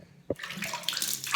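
Warm water splashing while a face is rinsed during a skincare routine, a low slap followed by a soft, continuous trickle and splashing that stays quiet and close.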